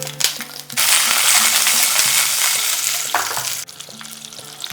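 Panch phoron spices and a handful of green chilies fry in hot oil for a fish dish, a loud sustained sizzle that swells as the chilies hit the pan, with brief clinks of a utensil and no talking.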